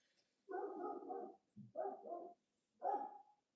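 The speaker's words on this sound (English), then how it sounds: "She's out there barking." A dog named Kaya barks outside in three short bursts of rough, mid-pitched woofs, clear but at some distance, with quiet pauses between.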